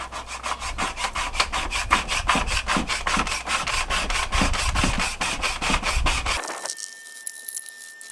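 Rapid, steady rasping strokes scrape old finish off a wooden table, dozens in a quick rhythm up close, then stop abruptly, leaving a faint hum.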